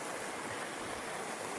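A river flowing at night gives a continuous hiss of rushing water, steady and fairly faint throughout.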